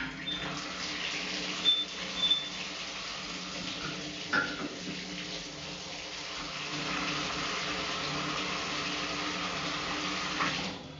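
Water runs steadily from a shower in an 1890 Victorian house, a continuous broadband hiss with a few brief clunks and knocks near the start, some water leaking from the bottom.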